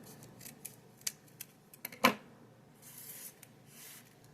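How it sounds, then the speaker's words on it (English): Scissors snip through printer paper for a paper star ornament, with a few quick light cuts building to one sharp, louder snip, then soft paper rustling. "I'm just going to take this and cut it on an angle."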